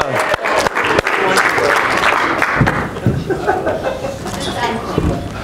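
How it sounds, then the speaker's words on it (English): An audience applauds a volunteer dancer at an inspirational speaker's talk, loud dense clapping mixed with chuckles and crowd chatter, tapering off near the end. "give her a round of applause."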